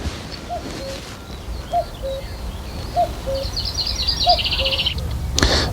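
Repeated two-note calls from a cuckoo in woodland, about four evenly spaced pairs over a steady outdoor background, moderately distant, with faint higher bird chirps joining later and no talking.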